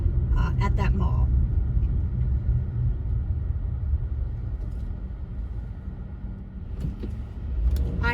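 Car driving south on Wanamaker at midday on a Thursday, a steady low road rumble from inside the vehicle with someone talking over it for most of the stretch.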